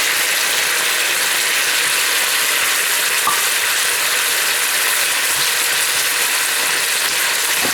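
Chopped onion sizzling and frying in a hot pan with a browning beef roulade, a steady bright hiss throughout with a faint stir or tap near the middle; no talking.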